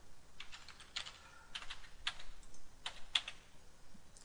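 Quick, light keystrokes tapped on a computer keyboard while entering a password during Windows 10 setup, coming in short irregular bursts with small pauses, close and fairly quiet, with no talking.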